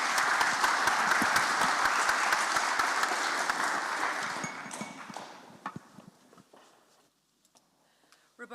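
A conference audience at an evening session gives dense, rapid applause to the speakers who summarized the afternoon. The clapping thins out and fades to scattered claps, then near silence.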